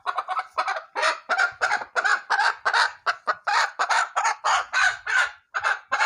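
A broody hen clucks repeatedly in a quick, steady series of loud, close calls, with no talking.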